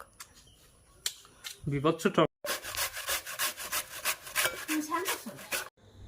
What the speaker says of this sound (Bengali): আমগুলো ছুলে নিয়ে এখন আমি মেশিনে গ্রেড করে নিচ্ছি